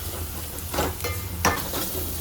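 Tempering with turmeric and salt sizzles in a pan, a steady close frying hiss broken by a couple of sharp stirring scrapes.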